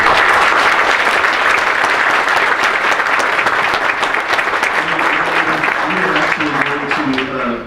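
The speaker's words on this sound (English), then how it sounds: "if you could kindly and respectfully keep your applause to the end, that would be great." At a sheriff's race candidate forum, an audience breaks into sustained applause, dense and loud, then thinning slightly toward the end.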